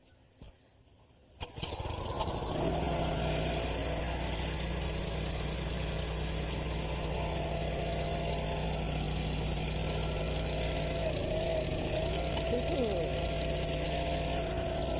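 Small gas engine on a log splitter starts after a few sputters, then runs at a steady loud idle with a constant hum. Voices talk faintly over the engine.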